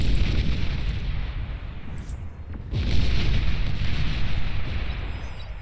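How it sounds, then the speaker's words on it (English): Fusion reactors explode in the Beyond All Reason strategy game, a dense continuous rumble of booming blasts and artillery-like fire that swells again partway through. "The fusion reactors' explosions just kill most of them anyway"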